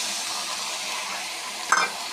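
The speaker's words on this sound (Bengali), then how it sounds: "এখন দিয়ে দিচ্ছি ডিমগুলো" Eggs go into a hot pan of oil and crackle. A steady, close hiss is capped near the end by a brief, sharp burst of sizzle as they land.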